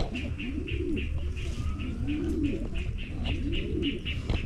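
Pigeons coo in soft, repeated rolling calls close by, over a steady background of fluttering and chirping birds.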